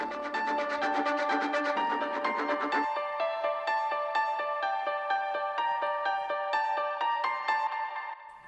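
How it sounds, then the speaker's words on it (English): Piano in a dark house track shifts from a lower, fuller register to a brighter line an octave higher partway through, with repeated notes carrying echo and reverb over a steady pulse. "So here's where the piano jumps up an octave."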